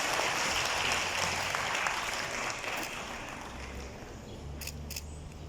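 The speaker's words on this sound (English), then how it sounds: "Sous les applaudissements, merci." An audience at an outdoor award ceremony for a green ranger school program claps steadily for a participating school, a dense, even wash of applause at moderate distance that eases slightly toward the end.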